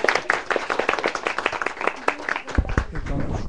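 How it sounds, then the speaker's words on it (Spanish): A studio audience at a writer's interview claps in a lively burst of uneven handclaps, with a voice speaking over part of it and a few louder claps near the end. "Pero aplaudan bien, ese aplauso me salió."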